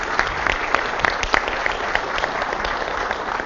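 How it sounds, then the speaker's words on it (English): An audience applauds steadily, with dense, lively clapping that keeps going for several seconds. "So I'd like to give a round of applause to Dan"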